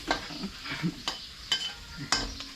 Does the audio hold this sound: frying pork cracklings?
yes